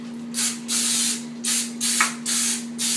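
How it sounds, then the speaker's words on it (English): Five short hissing bursts of cooking spray onto a pan in a steady rhythm, close by, over a faint constant hum. "We're going to spray it with cooking spray."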